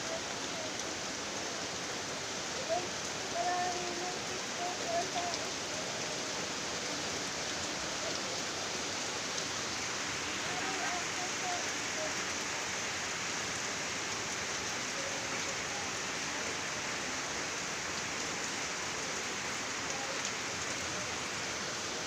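Steady rain falling on a home vegetable garden, a dense even hiss of drops on leaves and surfaces that holds constant throughout, moderately loud, no talking.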